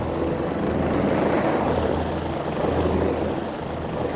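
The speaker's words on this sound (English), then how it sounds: "With a line attached from the chopper to the boat" Rescue helicopter hovering above a boat on the open sea, its rotor and engine drone loud and continuous with a low throbbing pulse, no voices over it.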